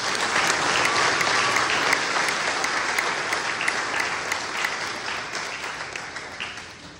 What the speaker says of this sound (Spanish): Vamos a darles un fuerte aplauso para que se animen.